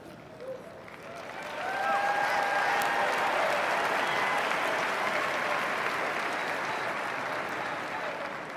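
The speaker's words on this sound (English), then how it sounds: "Those men and women cheering, chanting over and over and over again, USA, USA," A large crowd at a presidential inauguration day parade event bursts into loud, sustained applause and cheering that swells after a second and holds steady throughout.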